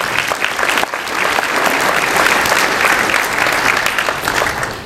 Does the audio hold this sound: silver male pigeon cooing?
no